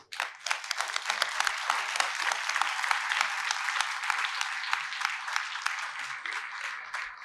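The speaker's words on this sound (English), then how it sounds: "we'll give you a round of applause" A political forum audience gives the Iberia Parish Council candidates a sustained round of applause, dense steady clapping from many hands lasting several seconds, with faint voices mixed in.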